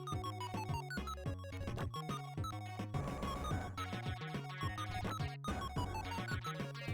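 Guitar theme music from the video game Ristar plays as a bright, busy melodic loop with steady bass notes and chiming lead lines, continuous and fairly quiet with no talking.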